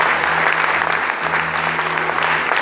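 A church congregation applauds steadily throughout, a dense, sustained wash of clapping from many hands with a faint hum beneath and no talk over it.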